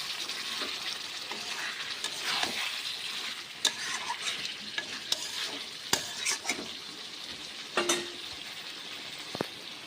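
Meat fried in a pan at home with spices, crackling sizzle under frequent scraping and clattering strokes of a spoon, irregular stirring clicks standing out from a continuous frying hiss.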